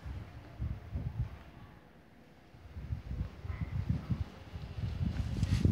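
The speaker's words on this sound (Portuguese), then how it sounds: "Tá um vento aqui hoje, gente, tá difícil." Wind buffets a microphone outdoors in low, irregular rumbling gusts that ease off briefly in the middle, then build stronger toward the end.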